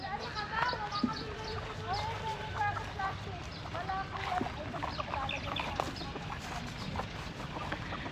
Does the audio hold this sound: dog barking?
no